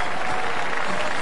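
A cricket crowd applauds Corey Anderson's century, a dense, continuous burst of clapping from many hands, brief and loud.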